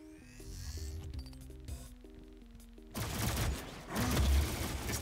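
Gunfire in the Doom video game on map02, with a rapid burst of shots and loud blasts over droning game music and mechanical effects, growing denser and louder toward the end.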